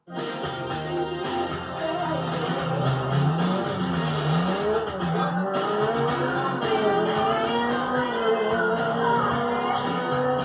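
Cars race in the video game GTA 5, with continuous loud engine roar and wavering tire squeal and skidding filling the whole stretch, pitch rising and falling as they take corners.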